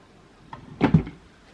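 An IKEA drawer slides open with a quick wooden rumble and a pair of close knocks, loud and brief against a quiet room.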